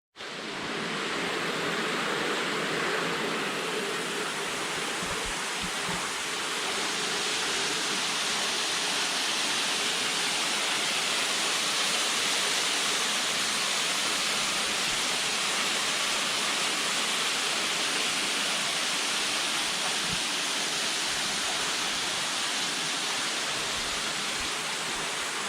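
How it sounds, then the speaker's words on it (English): Falling Waters waterfall in Florida plunges a stream down into a deep smooth-walled sinkhole, giving a steady, dense roar of falling water that continues unbroken with no voices over it. "You're looking at the highest waterfall in Florida"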